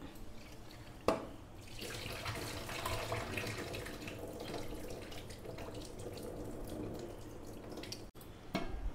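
Tap water runs steadily into a sink as rice is washed, a continuous splashing stream with a brief clink near the start and a short break near the end, no talking.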